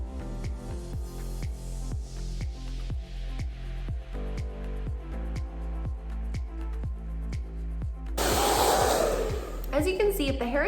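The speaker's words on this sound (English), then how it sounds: "you can actually bring the blow dryer up and power dry through the middle there" A hair blow dryer drying hair over a round brush, heard as a steady motor whir with a rhythmic repeating pattern. It ends in a louder, harsher blast as the airflow comes closer.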